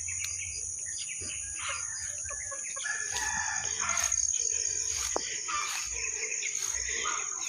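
Chickens cluck and crow outdoors amid a steady chorus of insects, with scattered rustling and clucking bursts throughout.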